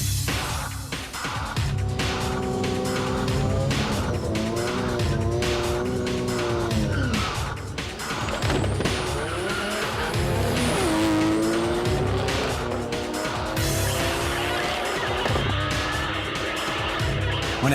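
A rear-wheel drive drag race car on Mickey Thompson street radials makes a hard pass, its engine loud and close with rising and falling revs, shifts and squealing tires throughout, with no speech.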